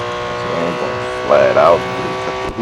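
A Porsche race car engine screams flat out at Le Mans in the Real Racing 3 racing game: a steady, loud, high whine with a brief rise in pitch, while a voice talks over it.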